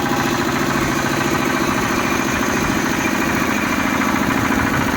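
The engine of a 7.5 HP Giriraj nano tractor runs at a steady idle nearby. It makes an even, rumbling chug with a vibrating mechanical texture, alone and without speech.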